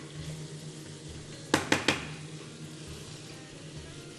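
Beef offal for a Tirana-style clay-pot dish fries in a pan with a low, steady sizzle, broken midway by three quick, sharp utensil clacks against the pan.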